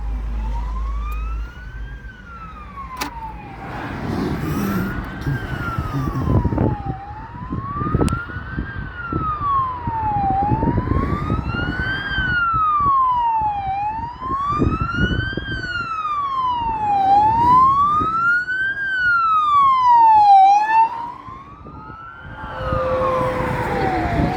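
A police patrol car siren wails in rising and falling sweeps, loud and close, repeating steadily for over twenty seconds over road and engine noise, with a second siren tone layered higher in the middle stretch.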